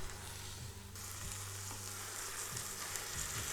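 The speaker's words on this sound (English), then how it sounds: "Let's get the ground beef into here." Ground beef frying in an Instant Pot over sautéed onions for cheeseburger pasta, a steady close sizzle with light stirring scrapes throughout, no talking.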